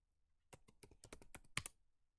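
A quick burst of typing on a computer keyboard at a terminal, about nine crisp close keystrokes in an uneven rhythm, heard alone against near silence.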